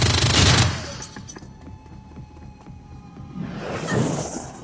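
Bursts of gunfire from the video game Shadowrun: Dragonfall: a loud rattling volley at the start, scattered shots in between, then a second heavy burst with a whooshing sweep, no speech.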